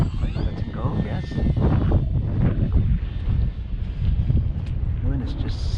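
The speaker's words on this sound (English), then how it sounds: "The wind is just a bit too much." Strong gusty wind buffets an outdoor microphone at an airfield during a model plane flight, a steady low rumble with loud fluctuating blasts, and a person speaks over it.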